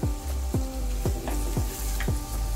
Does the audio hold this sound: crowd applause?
no